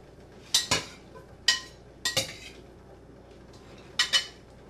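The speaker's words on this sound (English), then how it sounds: "I'm going to stir it up." A spoon clinks against a pan while ravioli is stirred in a light tomato vegetable sauce, giving a few sharp, close knocks in small pairs separated by quiet gaps.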